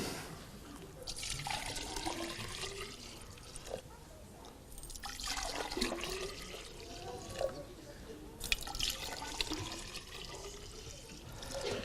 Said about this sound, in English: let's see what happens if I keep pouring